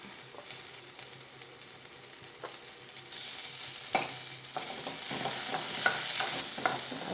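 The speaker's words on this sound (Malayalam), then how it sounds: "ഇനി ഇത് മൂക്കട്ടെ" Long green chillies fry in coconut oil in a pan, a continuous close sizzle that swells louder toward the end, broken by a few scraping stirs and light clinks.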